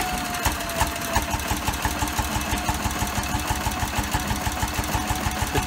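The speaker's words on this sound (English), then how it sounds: "this is just going to be a short video, just a clip rather, of the Bessemer engine running the generator and actually doing work" An old Bessemer gas engine drives a dynamo generator, puffing in a steady, rapid rhythm of regular thumps over a constant mechanical hum and clatter, heard up close with no talking.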